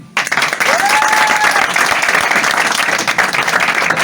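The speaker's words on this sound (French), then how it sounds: "aux applaudissements du public et un applaudissement dynamique" Loud, dense applause from a theatre audience at a hypnosis show, sustained for several seconds, with a brief whistle near the start.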